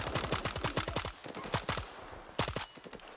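Rapid automatic gunfire from a weapon in the video game STALKER 2: a fast burst of close, punchy shots, then a few single shots, then another short burst, loud and with no one talking.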